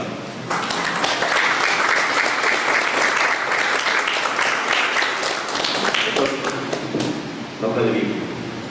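An audience gives strong applause to welcome a speaker at a regional Indecopi event, loud sustained clapping for several seconds that thins out near the end while a voice begins to speak.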